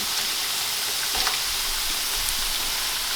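French fries frying in hot oil, a steady broadband sizzle with faint crackles and pops, close and even throughout without any voices.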